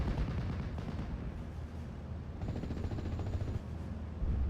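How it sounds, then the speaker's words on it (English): An artillery barrage in a WWII video game, heavy continuous booms and rumbling blasts that overlap into a dense roar at moderate distance, with no clear gaps between impacts. "You got a time on target, a tight barrage coming on this unit"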